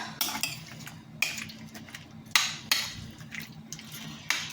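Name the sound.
stirring paprika into goulash in a pot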